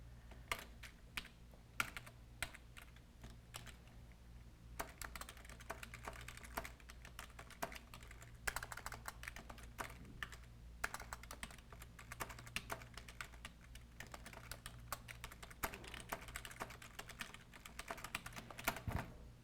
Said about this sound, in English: I just typed in a whole lot of things so that you could see how it formats it correctly